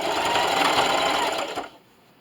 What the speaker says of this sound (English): I'm going to backstitch in the beginning